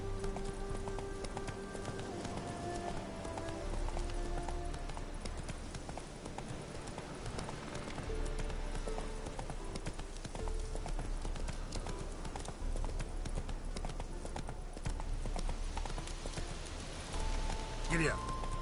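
A video game horse gallops in a steady, rapid clip-clop of hooves over continuous outdoor ambience, with a voice speaking over it.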